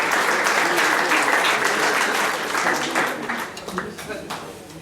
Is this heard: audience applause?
yes